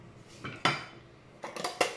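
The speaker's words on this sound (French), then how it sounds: "maintenant, j'ai plus que la vaisselle à faire" Washing up dishes, pots and cutlery in a home kitchen after cooking pork chops: a few sharp clinks and clatters of ceramic and metal, close and fairly quiet, with pauses between knocks.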